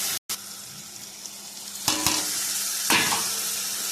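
Spice paste being stirred as it fries in a pan, a steady sizzle with a few louder scraping strokes of the spoon near the end.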